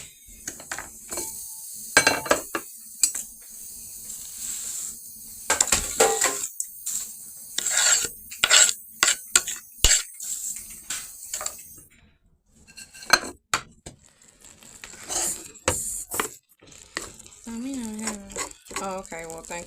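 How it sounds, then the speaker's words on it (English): Frozen bell peppers and onions being chopped with a knife on a cutting board in a home kitchen, a quick series of close, sharp knocks and clinks in irregular bursts, with brief pauses and light utensil rattles. "So I do have some frozen bell peppers and onions from my last meal that I didn't use. So we're going to chop that up too."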